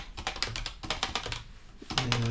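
Typing on a computer keyboard while coding a JavaScript Hello World page, with bursts of close, crisp key clicks in quick irregular runs, a short pause midway, then more keystrokes.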